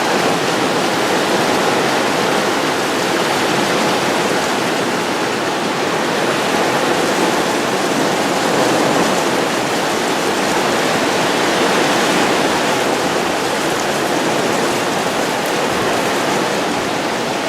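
Heavy thunderstorm rain during Hurricane Irma in Florida cascades off a house roof like a waterfall, a loud, close, unbroken roar of pouring water that holds steady throughout with no speech.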